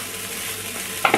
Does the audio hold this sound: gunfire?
no